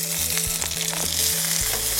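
Green chillies and soaked peanuts fry in a little oil in a pan, giving a steady, loud close sizzle with bubbling crackle and no voices.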